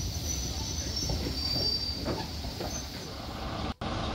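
A steam train rumbles steadily nearby with faint wheel squeal and rail clatter, continuous throughout before cutting off abruptly near the end.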